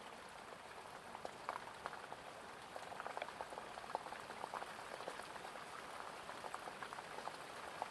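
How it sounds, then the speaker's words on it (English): Steady gentle water and rain ambience, a dense soft patter of droplets with small splashes throughout, continuous and even, like water lapping at a shore under rainfall, with no voices. "the sound of the water gently lapping onto the shore"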